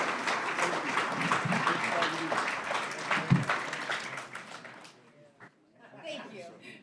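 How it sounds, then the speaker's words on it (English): A round of applause from the attendees at a county board of supervisors meeting, steady dense clapping for about five seconds that then tapers off, with voices mixed in. "One more last round of applause, everybody."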